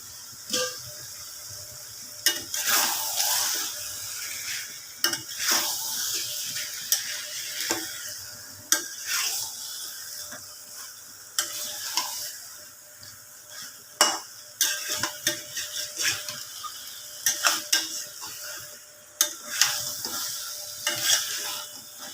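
Potatoes and green peas stirred together in a wok for a winter aloo dum, with repeated spatula scrapes and clinks over a steady low sizzle, close and fairly loud, no talking.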